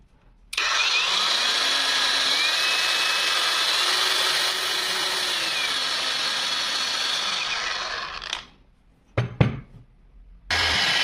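A Revolt AG 20/125M cordless angle grinder spins up gently on its soft start, then holds a loud, steady high-pitched whine for about eight seconds before winding down, followed by a brief restart.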